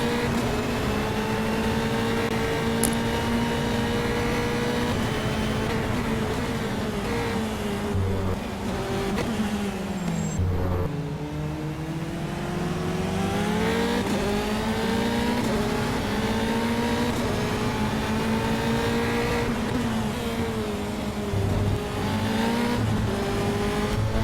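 Formula 3 race cars lapping Circuit Gilles Villeneuve, a continuous high-pitched engine whine rising and falling through gear changes and passes, steady and loud with no pauses.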